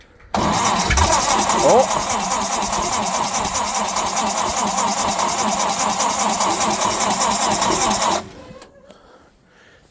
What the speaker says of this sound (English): She almost fired off with a little snort of the old Brake Clean